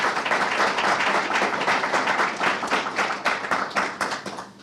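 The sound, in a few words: audience applause for the panelists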